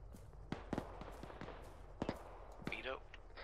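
Sharp bursts of gunfire in Arma 3 crack out in separate shots and short clusters, some close and some farther off, with voices talking over the firing.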